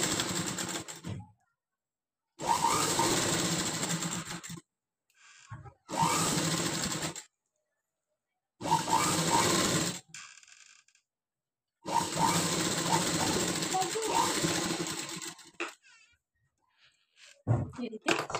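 Sewing machine stitching fabric in several bursts of steady, fast motor whirring with needle chatter, separated by pauses, close and moderately loud.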